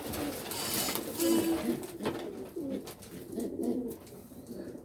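Blue checker pigeons coo in a loft, several soft throaty rolling calls repeating close by over a few seconds, with faint rustling around them.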